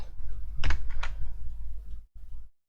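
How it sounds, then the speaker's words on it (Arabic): A few computer keyboard keys are pressed in quick bursts of clicks. The sound is close and fairly quiet. "كضغط سلاش في الكيبورد"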